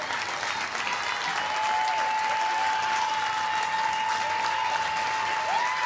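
Steady, sustained applause from baseball fans in the stands at a Little League game between Richmond, TX and Boerne, TX, honoring a pitcher; a dense crowd sound holding at an even level throughout.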